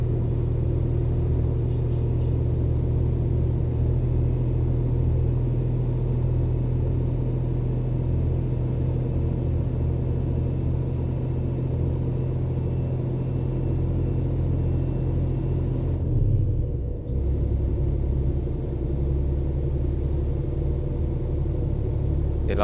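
Scania P410 truck engine in Euro Truck Simulator, hauling a 47-tonne transformer up a bridge: a loud, steady low diesel drone that continues throughout, dipping briefly near the end as the gear shifts.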